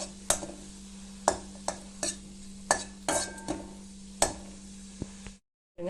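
Tamarind dry-roasting in a pan, a utensil scraping and knocking against the metal in sharp, irregular strokes over a faint steady hum, with no talk, ending in a brief silence.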